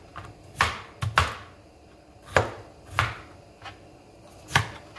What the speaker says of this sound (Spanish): La cebolla la picamos.